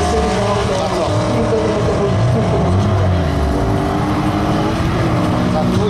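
A loud, sustained engine roar from a stock BMW M5 on a quarter-mile drag strip at a Grand Prix event, rising and shifting across the run, with a commentator's voice over it.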